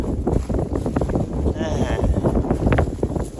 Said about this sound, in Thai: ลมมันแรงจริงๆ แรงกว่าตอนที่มาครับ